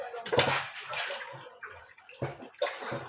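Glutinous rice being rinsed in water by hand while cooking landang: close swishing and sloshing in bursts, with pauses between stirs and no talking.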